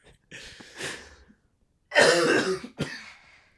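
A person coughs in a quiet indoor setting: a short cough, then a harsh, loud burst followed by a final sharp cough, fairly close.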